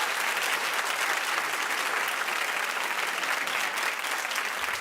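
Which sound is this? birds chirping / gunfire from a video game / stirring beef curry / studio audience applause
studio audience applause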